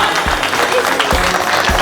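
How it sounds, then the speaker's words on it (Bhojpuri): An audience at a live cooking contest show applauds, steady dense clapping from many hands that carries loudly through the whole short stretch, with a faint voice underneath. "तालियां।"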